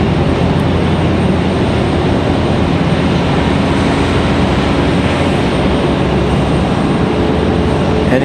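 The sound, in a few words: JetBlue airliner making second landing attempt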